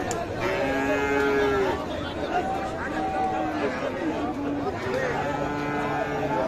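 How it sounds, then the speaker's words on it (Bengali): Friesian and cross-breed bulls low repeatedly at a cattle market in Ambari, Parbatipur, Dinajpur, several drawn-out moos from near and farther off over crowd chatter and someone talking. "সামনে দেখছেন ফ্রিজেন এবং ক্রস জাতের ষাঁড় গরু"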